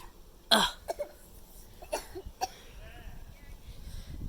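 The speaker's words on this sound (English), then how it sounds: "What you coughing for?" A three-year-old child coughs outdoors on a windy day, giving a few short, sharp coughs spaced apart, with light wind and background noise between them.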